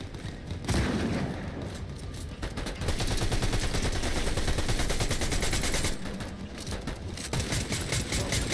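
Video game gunfire crackles in dense, sustained bursts of rapid automatic shots, loud and close, with brief pauses before the firing resumes throughout.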